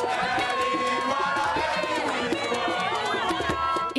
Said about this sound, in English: the crowd swell to catch a glimpse of their country's president, Ellen Johnson Sirleaf